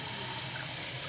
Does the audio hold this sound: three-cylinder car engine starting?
no